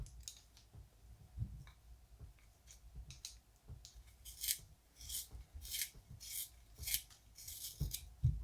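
A colored pencil being sharpened briefly, producing a series of short, close, crisp scraping and clicking bursts with quiet pauses between them and no voices.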